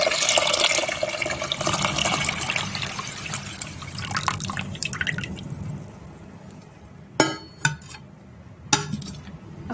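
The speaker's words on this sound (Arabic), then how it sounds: "غادي نزيدوا عليها الماء." Water being poured into a cooking pot holding lentils, a loud splashing pour for several seconds that tapers to a trickle, followed by a few sharp clinks of the pot.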